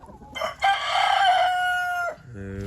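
A rooster kept with Sussex hens in a poultry yard crows once, loud and close, with a long sustained call and a short cluck at the end.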